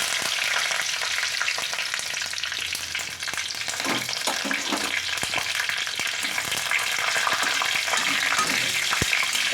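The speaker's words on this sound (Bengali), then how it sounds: "এবার আমি এর মধ্যে গোটা সর্ষে ফোড়ন দিয়ে দিলাম" Whole mustard seeds, three or four dried red chillies and curry leaves fry in hot oil for a South Indian sambar dal, giving a steady, dense sizzle with occasional crackles and stirring scrapes.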